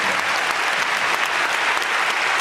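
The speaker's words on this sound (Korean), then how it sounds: "큰 박수 부탁드리습니다" Loud, steady applause from a theater crowd at a musical concert curtain call, continuous clapping filling the whole stretch without a break.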